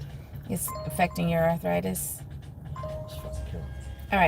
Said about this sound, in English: That's the little bell sound you hear.